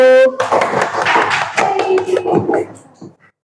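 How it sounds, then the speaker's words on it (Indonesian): A classroom of fourth-grade pupils claps for a presenting group, a short burst of fairly close, uneven hand claps that thins out and stops after about three seconds, with some voices mixed in. "Tepuk tangan untuk kelompok 1."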